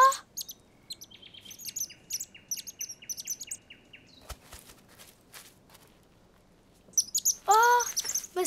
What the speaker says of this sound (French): mais c'est un bébé oiseau